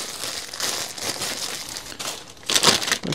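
Plastic bags rustle and crinkle in a steady run of crisp rustling while parts of a Makita UC3541A chainsaw are being repaired, with a louder burst of crinkling near the end and no talk.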